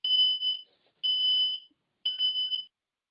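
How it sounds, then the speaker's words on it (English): A smoke alarm sounds three loud, piercing beeps close by, each about half a second long with short gaps, and no other sound. "Somebody's smoke detector went off."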